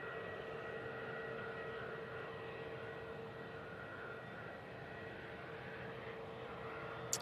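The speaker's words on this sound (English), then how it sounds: "we've got this TUI Dreamliner off to Punta Cana." A TUI Boeing 787-8 Dreamliner departs Manchester Airport, its jet engines a faint, steady distant roar holding evenly throughout.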